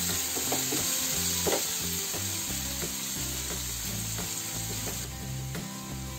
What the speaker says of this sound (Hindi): अब इसे मैं ढक देती हूँ और मीडियम आंच में इसको अच्छे से भूनूंगी।